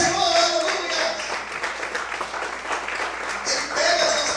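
Church congregation applauding during a Portuguese-language service, a spread of mixed clapping that swells, dips and rises again, with voices heard under the applause.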